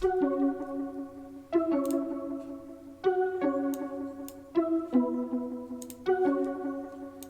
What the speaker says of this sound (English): So the next thing we can look at is the high pluck.